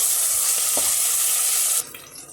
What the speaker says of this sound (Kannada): ಇವಾಗ ಇದನ್ನು ಸಹ ಹಾಕ್ಕೊಂಡು ಚೆನ್ನಾಗಿ ಫ್ರೈ ಮಾಡ್ತೀನಿ.